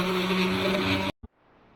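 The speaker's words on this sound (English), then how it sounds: "I'm just going to hit it with the sander" An electric sander runs steadily on a charred, hand-hewn 1800s log being finished into a mantel, a loud continuous whine that cuts off abruptly near the end, followed by a brief knock and quiet.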